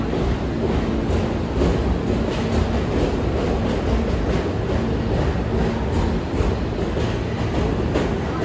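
A New York City subway train, a D train running on a weekend reroute, rumbles past close by with continuous heavy rolling noise and clattering wheels on the rails, loud and steady throughout.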